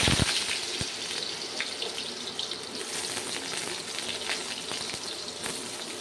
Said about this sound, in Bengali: এখানে আমি কড়াইতে তেল দিয়ে দিয়েছি। এবার কেটে রাখা আলু দিয়ে দিয়েছি।